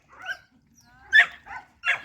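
Small puppies yip, bark and whimper in short high-pitched bursts, four separate cries spaced across a couple of seconds, close by with no talking over them.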